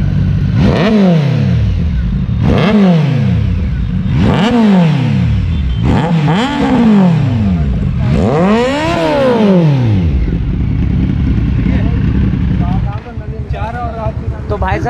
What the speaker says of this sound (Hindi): तो भाई साहब, ये थी हमारी शेरनी की आवाज़ और ट्रायम्फ की इनलाइन 3 की आवाज़।